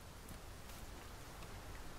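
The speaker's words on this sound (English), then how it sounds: "Oh, and the rain begins." Rain falls in the video game Dragon's Dogma 2 as a soft, steady, even hiss of drops with no break and no voices.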